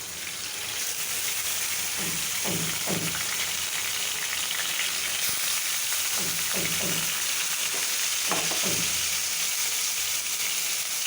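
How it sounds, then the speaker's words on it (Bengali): Meat fries in a pan with a loud, steady sizzle throughout, joined by a few short bursts of scraping and stirring close by. "এখন এই ভাজবো মাংসটা"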